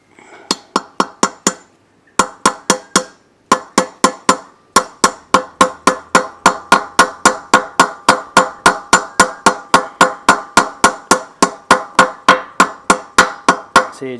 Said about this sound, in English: So you just want to tap that in gently.